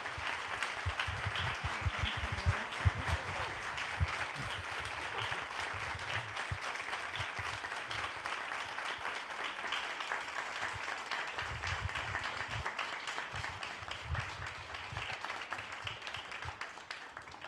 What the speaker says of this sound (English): hope all of you would extend, an applause for all of our speakers tonight